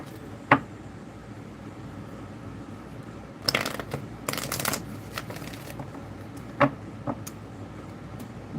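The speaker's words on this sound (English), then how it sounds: "I'm going to shuffle this 3 times for you." A tarot card deck is shuffled in quick riffling bursts, with a sharp tap or two before and after, close and clear against a quiet room.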